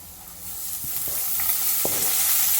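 Chopped onion with curry leaves, ginger, methi and mint frying in oil in a pan, giving a steady bright sizzle that grows louder, broken by a few knocks and scrapes of a spoon stirring.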